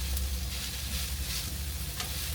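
Cheesesteak beef and melting cheese sizzling on a hot cooking surface, a loud continuous frying hiss with a low rumble beneath and occasional sharper spits, no talking.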